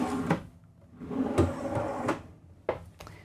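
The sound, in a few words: full extension soft close drawer in kitchen island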